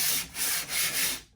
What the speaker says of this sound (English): Once more with the sandpaper.